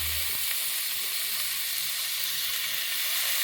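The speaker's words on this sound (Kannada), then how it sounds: "ಶುಂಠಿ ಬೆಳ್ಳುಳ್ಳಿ ಪೇಸ್ಟ್ ಹಾಕಿ ಫ್ರೈ ಮಾಡ್ಕೊತಾ ಇದ್ದೀನಿ." Ginger garlic paste frying in a hot pan, a steady close, bright sizzle and hiss running without a break.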